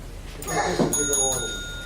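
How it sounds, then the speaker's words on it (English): A timekeeper's bell at a neighborhood alliance forum gives a short bright ring, a single near strike with a sustained ringing tone that fades over about a second, heard over background room noise with speech nearby. "they'll ring the bell when you're going to, after about a minute and a half"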